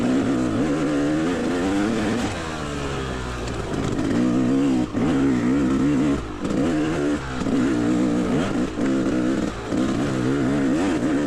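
A hard enduro motorcycle engine drones and revs continuously as it rides a rocky, dusty trail during a race lap, rising and falling with throttle changes and brief dips, loud and close throughout.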